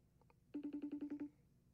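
An outgoing phone call rings back in the earpiece: a single burst of steady, evenly pulsed ringback tone follows a couple of faint dial blips, fairly clear and alone with no talk.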